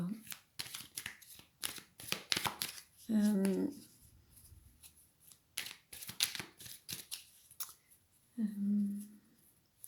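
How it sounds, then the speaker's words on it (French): Someone shuffles a deck of oracle cards in short, close riffling bursts between stretches of someone speaking softly, with light taps and handling of the cards throughout. "Allez, on va prendre maintenant ces cartes."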